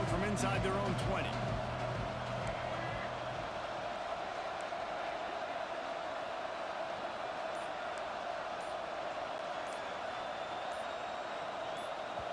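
Loud, continuous roar of a football stadium crowd during a college game between the Ducks and the Cards, a dense wall of noise with a few whistle-like tones on top.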